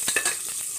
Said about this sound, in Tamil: கொஞ்சம் தள்ளியே நின்றுக்கோங்க, பொரியும்